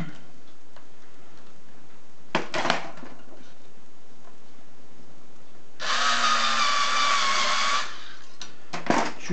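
A drill boring holes in a wooden block for an antenna resonator, a short burst of whirring lasting about two seconds, with brief clicks and handling knocks before and after in a quiet room.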